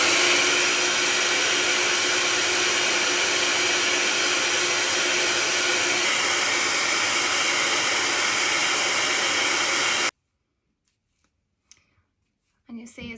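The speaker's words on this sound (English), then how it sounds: "set my hairdryer on a medium heat, not too high, but not too low, and just blow dry that hair" A hair dryer set to medium heat blows steadily and loudly on a human hair wig for about ten seconds, then cuts off abruptly, leaving near silence with a few faint rustles.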